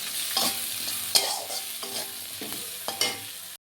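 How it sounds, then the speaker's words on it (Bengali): Dried fish (shutki) frying in a pan with onion, a continuous close sizzle punctuated by a few scraping stirs of a spatula, with no talk. "শুটকি মাছগুলো একটু ভালো করে ভেজে নিই।"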